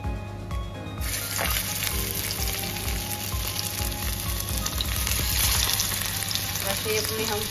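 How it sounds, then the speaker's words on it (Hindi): Potato tikkis dropped into hot oil in a frying pan, giving a loud, dense, continuous sizzle that swells right after they go in and stays strong and close throughout. "ऑयल है वो भी गरम हो चुका है, और अब हम अपनी टिक्कियाँ इसके अंदर डाल देते हैं।"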